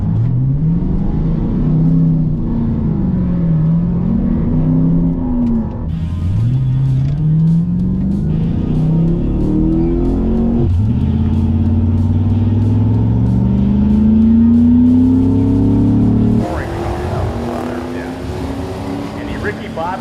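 Race cars accelerating and revving, engine pitch sweeping up and down repeatedly and climbing steadily through gear changes, loud and close throughout, with a voice speaking over the engine noise.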